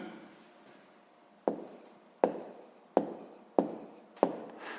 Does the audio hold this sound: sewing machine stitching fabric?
no